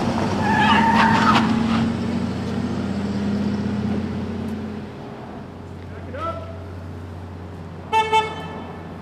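A car in a film stunt skids to a sudden short stop, a loud tyre squeal with engine noise and a horn toot early on, fading out, then two brief sharp toots near the end, with voices in the background.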